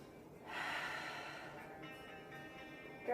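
A deep breath drawn in and slowly released during a yoga session, one long airy exhale that swells and then fades over a quiet room.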